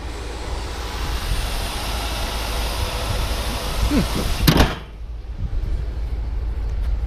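A 1969 Lincoln Continental with a 460 V8, warmed up and running smooth, heard as a loud steady broadband roar, with a brief rattling burst before the level drops slightly and continues.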